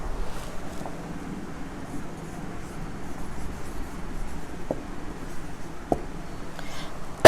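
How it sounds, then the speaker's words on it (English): Writing on a classroom board during a lecture: soft, scratchy strokes with a few faint taps, heard low and steady under a constant background hiss. "Now I'll just go on writing a few sentences."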